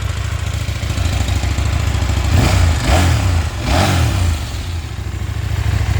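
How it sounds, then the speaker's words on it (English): A 2022 KTM 890 Duke with an 890cc parallel twin idles nearby with a lumpy mechanical clatter, then gets two quick throttle blips that swell and fall back to idle. "The engine's running at the moment."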